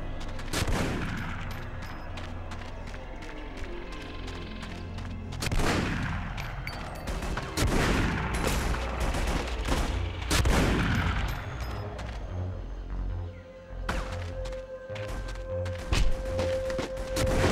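Dense gunfire from The Punisher PS2 video game, with rapid automatic bursts and heavy single shots overlapping continuously, loud and busy with thuds and crashes mixed in.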